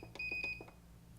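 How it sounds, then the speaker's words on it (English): An EverSewn Sparrow 30 sewing machine, its stitch size set to minimum, gives a quick run of faint, short electronic beeps with one longer tone among them, close and quiet. "I'm going to press this all the way down until the machine beeps at me"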